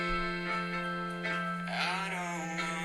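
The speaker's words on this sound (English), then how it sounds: "the original voice memo that started everything" Original phone voice memo of the song idea, recorded in November 2020 during quarantine. A steady sustained musical tone with rich overtones holds throughout, with soft, faint shifts in texture over a quiet room background.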